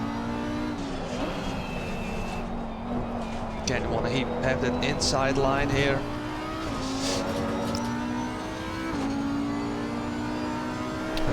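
A race car engine in a racing simulator at Zandvoort drones and shifts pitch as it accelerates, brakes and changes gear, with someone talking over it throughout.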